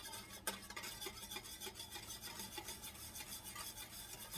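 A cup of grits being stirred into boiling water for shrimp and grits, a steady faint scraping swirl in the pot with one small knock near the start, close and continuous, no voices.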